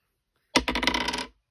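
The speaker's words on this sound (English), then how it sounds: "I believe I've just rolled one dice for this." A single die is rolled for a savings challenge game, landing in one brief, close clattering burst that rattles for under a second before stopping.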